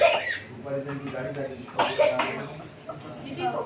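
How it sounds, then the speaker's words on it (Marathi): A girl coughs several times at close range, in short harsh bursts, with voices and chatter mixed around them during a home birthday celebration. "खूप खोकला आला"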